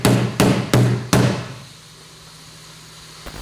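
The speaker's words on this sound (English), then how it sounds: "I'd be hammering it back out for any reason whatsoever" Four sharp metal hammer blows ring out at an even pace on a part of an OBS Chevy two-door Tahoe, each with a short ringing tail. After them comes a quiet pause, then a faint tap at the end.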